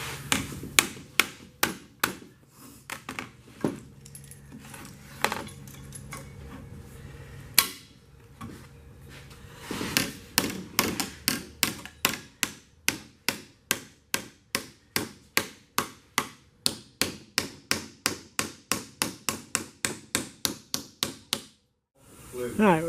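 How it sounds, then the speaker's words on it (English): Rapid metallic hammer blows ring out close by, irregular at first and then settling into a steady, fast rhythm of sharp strikes, with a brief pause near the end. "Keep hammering away."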